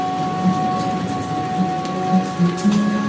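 Rain falls on grass and a roof in a steady, moderately loud patter, mixed with sustained musical tones that hum beneath it.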